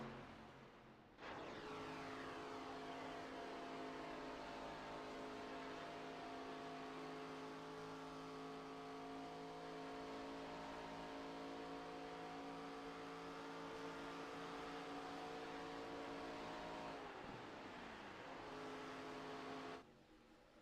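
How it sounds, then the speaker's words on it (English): An iRacing stock car at Atlanta Motor Speedway, its engine holding a steady harmonic drone for many seconds, then a brief dip in pitch as it is clutched into the corner before the sound cuts away. "You heard him clutch the engine there."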